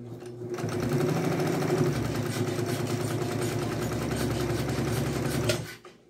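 A sewing machine stitches fabric scraps for a pillowcase in a loud, steady, close mechanical whir that runs several seconds before winding down and stopping.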